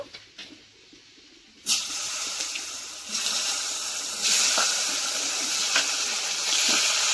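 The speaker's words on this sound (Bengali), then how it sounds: "সবজিগুলো আমি ভালো করে একটু ভেজে নেব।" Cauliflower stalks and other vegetables hit a hot pan and fry with a sudden loud hiss and sizzle that keeps going steadily, fairly close, with no voices.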